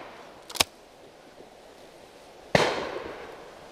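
Two shotgun reports at an outdoor clay pigeon shoot on Leighton Long Mountain, a sharp crack followed about two seconds later by a louder blast that rolls away in a lingering echo, with no talk over them.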